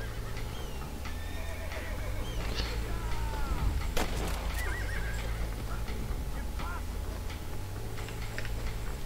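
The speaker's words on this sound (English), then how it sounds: "Get off the horse, Cody" Horse neighs and whinnies in the Red Dead Redemption western game, with hoof clip-clops and a sharp gunshot-like crack midway, over a steady low rumble of game ambience.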